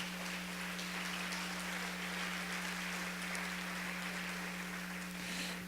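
A church congregation applauds in a steady, dense wash of clapping that holds at an even level throughout, with a constant low hum underneath.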